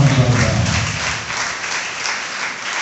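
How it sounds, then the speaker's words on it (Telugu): A congregation at a Sunday worship service claps loudly and continuously, a dense sustained wash of applause filling the room at close range. "గట్టిగా చప్పట్లు"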